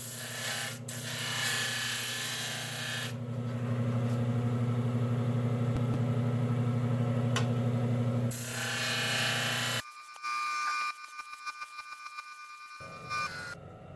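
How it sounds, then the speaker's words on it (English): A disc sander chamfers the ends of steel dowel pins for a 6-71 supercharger blower: a steady motor drone with a rasping grind of metal against abrasive for several seconds, then the machine cuts off, leaving a few quiet clicks and taps. "I finished off the pins by taking them over to the disc sander and carefully chamfering the ends."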